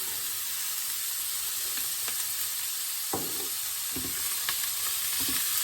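Sparassis crispa mushroom grilling in a hot pan with salt and pepper, a steady close sizzle with occasional soft stirring scrapes and crackles, no talking.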